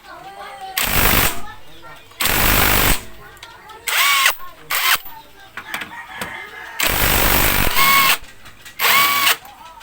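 Impact wrench fitted with a 17mm socket working a nut on a Honda Click scooter's wheel hub, loud close bursts of whirring and hammering in several separate runs, with pauses between and talk in the gaps.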